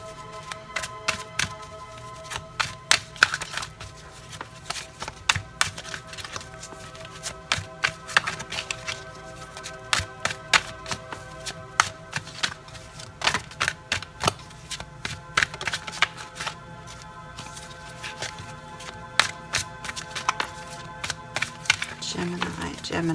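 Cards are shuffled and tapped in steady rapid bursts of light clicks and flutters, close by, with a faint voice now and then.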